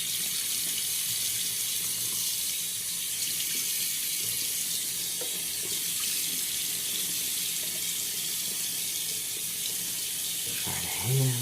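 A bathroom sink tap runs in a steady, close hiss of flowing water for the whole stretch, with a brief splash or clatter near the end.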